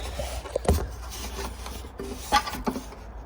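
A small saw cutting Andamooka blue crystal opal gives a close, rasping, grinding scrape with a few louder catches, continuous at moderate level without talk.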